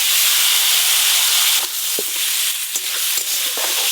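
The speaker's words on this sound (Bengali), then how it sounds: "এবার আমের চাটনি করার জন্য কড়াতে তেল দিয়ে দেবো। ফোড়নে দেবো শুকনো লঙ্কা 5 ফোড়ন" Dried red chillies and five-spice seeds sizzle in hot oil in a wok for mango chutney, a loud steady hiss followed by a few sharp clicks and scrapes of stirring.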